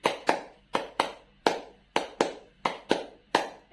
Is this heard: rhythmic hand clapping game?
yes